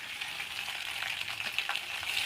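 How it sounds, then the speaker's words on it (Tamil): Chettinad rasam powder sautés in a pan with dried chillies and coriander powder, giving a soft, steady sizzle and frying crackle with faint stirring scrapes, quiet and continuous throughout. "இந்த ரசப்பொடியை கொட்டி நல்லா வதக்கணும்"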